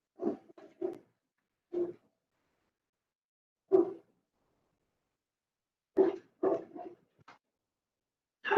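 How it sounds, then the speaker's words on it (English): A dog barks in scattered single and double yips across several seconds, each bark short and moderately loud against otherwise near silence, heard through a remote meeting call. "Whoever has the dog barking"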